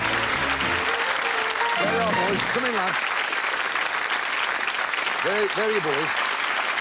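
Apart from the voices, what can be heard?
TV game show studio audience applause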